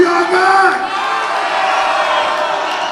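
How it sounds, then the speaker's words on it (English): A dense, loud crowd roars and cheers continuously at a live knockout fight league event, a sustained wall of whoops and shouting with a brief surge at the start. "The crowd is on their feet here."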